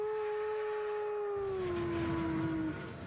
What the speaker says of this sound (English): You hear the train whistle sound like this.